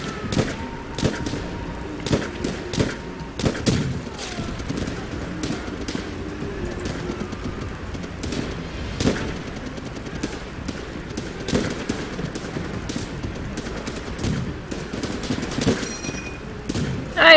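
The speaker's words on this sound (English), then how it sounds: "They're shooting at me now." Call of Duty World at War gameplay gunfire: dense, sustained rifle and machine-gun bursts with repeated sharp cracks and thuds, steady and close throughout with no talk.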